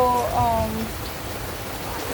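Outdoor rain falls as a steady broadband hiss throughout, with faint voices and a brief tonal sound near the start, then continuous rain noise alone.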